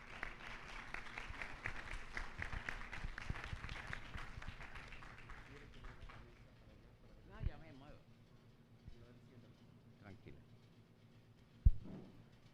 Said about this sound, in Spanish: Démosle nuevamente un caluroso aplauso